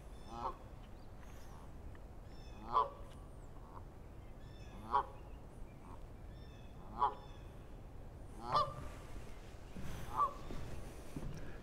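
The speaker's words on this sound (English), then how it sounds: "Little baby geese there with them." Several goose honks from a family of geese with goslings ring out at spaced intervals over a steady outdoor lakeside background hum, moderately near and fairly loud.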